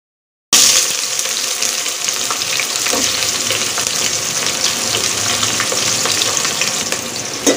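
Sliced onions with cinnamon, cloves and cardamom sautéing in hot oil in a pan for coconut rice, a steady loud sizzle throughout with occasional stirring clinks and no talking.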